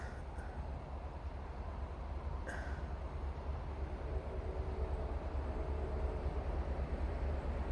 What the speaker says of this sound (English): you can start to hear the train